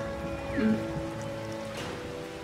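Steady patter of in-game rain falling in Sky: Children of the Light, a soft continuous hiss with layered musical tones and game sounds running over it, no talk.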